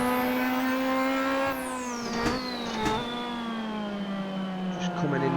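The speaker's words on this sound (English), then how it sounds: "Just listen to the sound of this car. The turbo" Zakspeed Capri Group 5 turbo race car in Assetto Corsa, engine droning loudly at steady high revs, then a sharp downshift with falling pitch and brief rev blips as it brakes into a corner.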